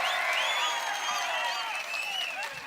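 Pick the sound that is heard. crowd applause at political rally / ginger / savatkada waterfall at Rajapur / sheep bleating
crowd applause at political rally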